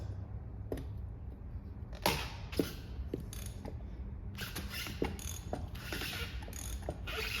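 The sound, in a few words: ratchet loosening coilover spring compressor on Audi A4 B5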